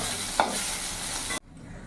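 Eggplant seasoned with salt and turmeric fries in hot oil with a loud, close sizzle and a sharp stirring scrape. The sound then drops to a quieter frying hiss.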